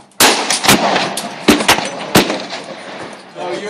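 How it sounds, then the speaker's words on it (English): A handgun fired at shooting practice, with about five or six sharp, loud cracks spaced unevenly over a few seconds and a short ringing tail after each. No one speaks during the shots. "Just keep shooting."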